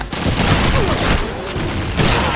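Rapid gunfire from a captured enemy gun in the World War II shooter Call of Duty 2, a loud sustained fusillade of close shots with booming impacts, running the whole time with a fresh burst near the end.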